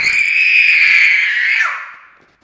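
A baby lets out a single sustained, piercing scream, very loud and close, that holds steady before tapering off and fading out.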